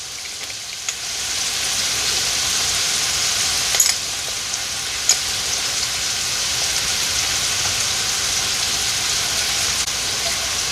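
Onions and minced garlic browning together in a pot for a Southern greens, peas and pork dish, giving a steady, even sizzle that holds at a constant level throughout, with a couple of brief clicks and no talking.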